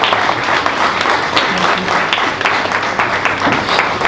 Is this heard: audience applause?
yes